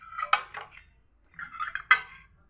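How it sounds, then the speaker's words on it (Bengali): A lid is lifted off a cooking pan, two short clinks of metal on metal a second apart, faint and close in a quiet kitchen. "5-6 মিনিট পরে এসে আমি ঢাকনাটা তুলে দিচ্ছি।"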